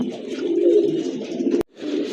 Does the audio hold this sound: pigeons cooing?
yes